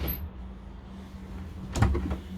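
A door thuds shut once inside a Dethleffs Pulse i6811 integrated motorhome, near the end after a quiet stretch of low room hum, with a brief rattle as it settles.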